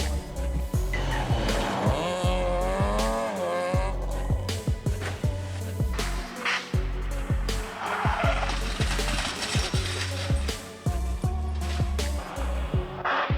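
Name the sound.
car crash with skidding tires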